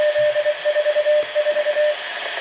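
A radio repeater sends its hourly Morse code identification as a steady tone keyed in rapid dots and dashes, loud and clear over a constant hiss of radio static.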